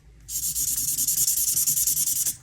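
A water-based felt-tip marker scratches rapidly back and forth across paper while colouring, a dense rhythmic rasp of quick strokes lasting about two seconds, close and alone.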